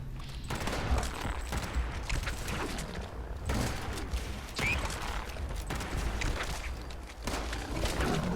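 Gunfire in the Fallout 76 video game during a Meat Week event, a dense stream of rapid shots with mechanical clanks and booms, fairly loud and continuous throughout.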